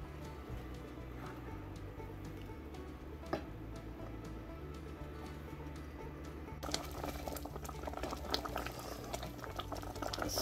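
Wild berry jam of thimbleberry, wild raspberry and vine blackberry boiling down in a pot, a steady close bubbling and ticking patter with faint low hum, growing a little louder and busier toward the end.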